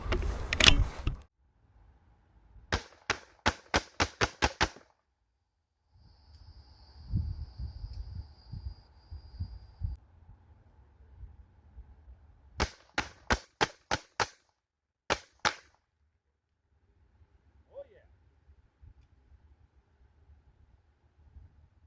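Bintac S338 semiautomatic big bore rifle fires in several loud rapid strings of sharp shots, each clustered volley of six to eight reports separated by pauses filled with rattling mechanical handling noise, with a couple of final single shots.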